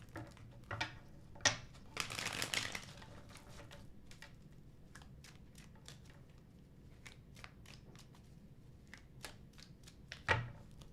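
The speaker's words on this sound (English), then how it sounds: "Last shuffle." Tarot cards are shuffled close by, giving soft riffling bursts and a string of quick, light taps and flicks. Everything stays quiet, with a couple of louder rustles, and no voice.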